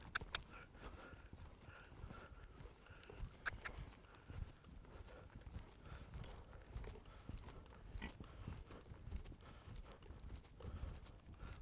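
A horse canters over cavaletti poles in a riding arena, its hooves giving a faint rhythmic clip-clop with soft thuds and scattered clinks, and a trainer's voice can be heard faintly in the background.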